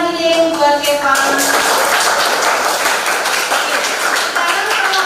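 A school class in Kudus applauds a student named Evan, a dense burst of clapping that fills the whole stretch at a steady, fairly loud level, with children's voices and a few shouts mixed in at the start.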